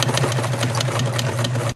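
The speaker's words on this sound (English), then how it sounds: "you're going to sew a row of stitches all the way down the strip" A sewing machine stitches a row down a strip of hemp fabric with a close, steady, rapid mechanical whir that runs the whole time and cuts off at the end.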